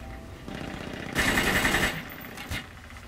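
Automatic gunfire in the video game Brink sounds as a short, rapid burst of shots lasting under a second. A brief single bang follows, with faint game noise underneath.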